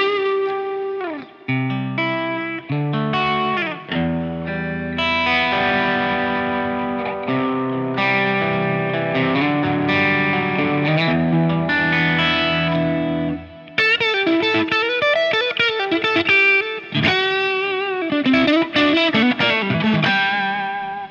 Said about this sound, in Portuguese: Com um pouco de reverb aqui nele